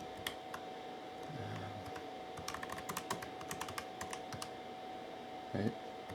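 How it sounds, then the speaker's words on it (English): Keys clatter on the keyboard of a Retro II, an Apple II compatible 6502 computer, in quiet uneven bursts of clicks over a steady low hum. "you could type in the program right into"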